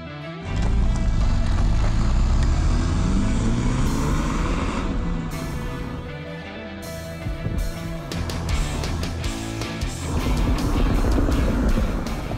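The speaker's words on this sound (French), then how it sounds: "nous vous présentons un essai exclusif, une voiture unique au monde, la Mazda RX-7 2002, version Spirit Air." The rotary engine of a 2002 Mazda RX-7 Spirit R runs loud and steady, its revs rising and falling across the whole stretch, with no talk over it.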